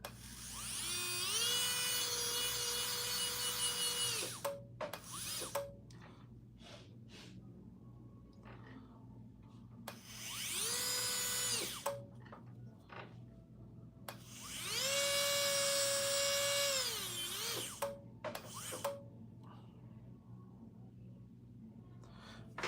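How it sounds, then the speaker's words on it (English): A watchmaker's graver is sharpened with a motorised tool, which whines in three sustained high-pitched runs separated by quieter gaps with clicks and handling noise over a low steady hum. "First things first, sharpen up the graver."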